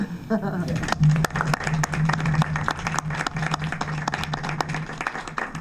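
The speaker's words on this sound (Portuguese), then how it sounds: "me quero pedir para nós darmos mesmo um aplauso" People applaud at a government cabinet agreement signing ceremony, with a steady patter of clapping that runs throughout while a voice speaks over the start.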